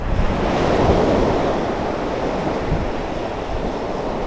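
Surf washing onto a beach and steady wind buffeting the microphone during shore fishing with a micro jig, a broad continuous roar, loudest early and slightly easing, with no voices.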